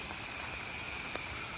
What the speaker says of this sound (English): So it's been monsoon raining here in North Carolina, hail, tornadoes, the whole deal.